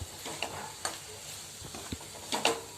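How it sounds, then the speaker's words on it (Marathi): Potato bhaji is sautéed in a pan, a spoon scraping and stirring in uneven strokes over a low sizzle, with a couple of louder scrapes near the end. "परतून घेते आपली बटाट्याची भाजी"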